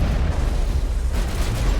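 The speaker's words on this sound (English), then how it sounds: "And a few explosions as well." Deep, rumbling booms and blasts from explosions in Mass Effect Legendary Edition, dense low-end thunder with no distinct pauses, loud and continuous throughout.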